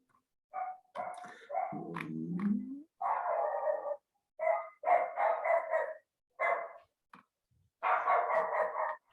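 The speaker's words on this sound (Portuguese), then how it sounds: "Tem cachorro na rua, né, gente? Estou ouvindo daqui." Dog barking out in the street, a series of sharp barks in irregular bursts with short pauses, moderately loud, with one lower growling yelp partway through and no talking over it.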